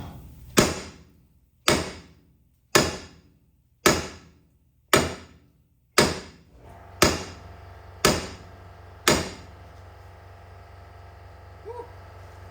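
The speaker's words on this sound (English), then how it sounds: "I'll keep hammering." Nine sharp metal hammer strikes ring out on a 2008 Chevrolet Silverado 1500 4x4 front suspension part during ball joint and control arm work, evenly spaced about a second apart, loud and close, followed by quiet.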